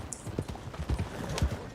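Horse hooves clip-clopping in Red Dead Redemption 2, a quick irregular series of close hoof thuds on the ground.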